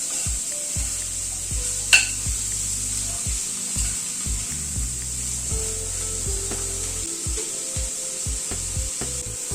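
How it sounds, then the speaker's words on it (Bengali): Chopped onion stir-fried with potatoes in a pan, a constant soft sizzle under repeated scraping strokes of a spatula, with one sharp clink near the start and no talking. "এবার পেঁয়াজটাকে আলুর সাথে হালকা করে ভেজে নেব, খুব বেশি কিন্তু ভাজবো না।"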